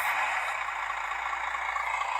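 Hissing air noise from a scale RC lorry, an Orlandoo Hunter OH32T01 build, a steady close airy rush with a faint whine held throughout, alone with no talk.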